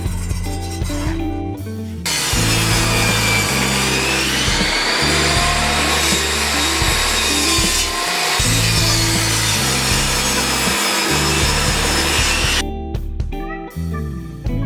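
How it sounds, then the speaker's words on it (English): A power saw cuts plywood strips for square-patterned coasters in two long, loud cuts. A steady whining rasp rises as each cut starts and stops abruptly, with quieter motor hum before and after. "I saw the strips in different sizes so I can make some variations in the pattern."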